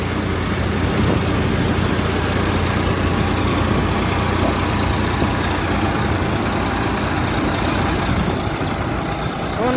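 A Sonalika tractor fitted with a DJ sound system idles at a cumin threshing floor beside a jumbo thresher, its loud, steady engine drone rumbling without a break and filling the whole stretch.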